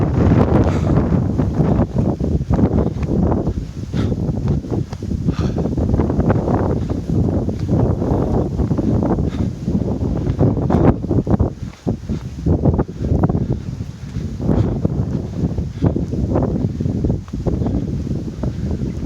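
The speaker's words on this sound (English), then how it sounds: "It's really windy today." Strong wind buffets the microphone in a continuous loud roar with gusty surges and dips throughout, on a hike to Noksan Lighthouse in Korea.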